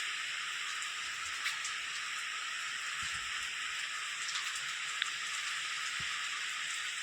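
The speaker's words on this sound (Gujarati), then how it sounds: "આજે શું ઉકળ કાઢતો જ નથી વરસાદ" A steady, soft hiss of rain falling on a farm field without a break, with an occasional faint drip or tap standing out.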